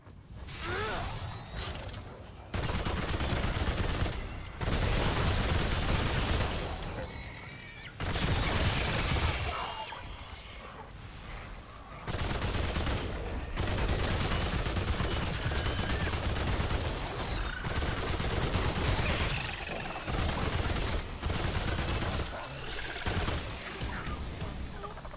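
Gunfire in the game Remnant 2, with heavy bursts of rapid shots starting and stopping across the stretch, loud and close, separated by brief quieter gaps.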